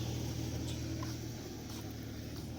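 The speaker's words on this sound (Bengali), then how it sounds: "এখানে ট্রেক্টর নিয়ে ধুলো সাফ করছে গাইস" A tractor clearing dust at a highway construction site gives a steady low engine drone and rumble that continues unbroken, with faint higher hiss above it.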